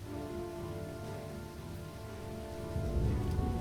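Steady rain falls in a video game scene at Wewelsburg Castle, where a fire keeps burning in the downpour. The patter is continuous and even, with a low rumble swelling near the end, and no voices are heard.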